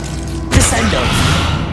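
A Glacius ice spell is cast in Hogwarts Legacy, a sudden bright whoosh and low thud after a quiet start, then a crackling icy wash that lingers.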